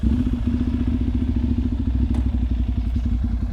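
A vehicle sets off from central Siem Reap in Cambodia. A steady, close engine drone runs throughout, with light clatter and road rumble and no talk.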